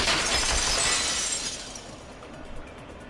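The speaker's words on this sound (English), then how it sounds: "heard the sound of the window shattering" Glass shattering effect from Danganronpa 2: Goodbye Despair, a loud bright crash that bursts at once and then decays into tinkling fragments over a couple of seconds.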